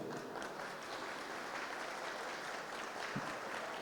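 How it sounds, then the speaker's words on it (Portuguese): An audience at a lecture event gives a round of applause for a sponsor, an even, continuous patter of many hands clapping at moderate distance, fairly faint and unbroken throughout. "uma salva de palmas, gente"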